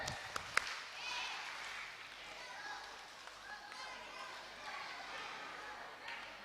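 Quiet clapping from a congregation at a Batak church prayer gathering, a few sharp claps at first and then softer scattered claps, with murmured voices underneath.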